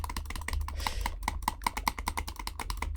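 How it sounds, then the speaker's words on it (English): Rapid mouse clicking while playing Minecraft, a quick steady run of light clicks close to the microphone, faint and continuous for a few seconds. "I just gotta click really fast."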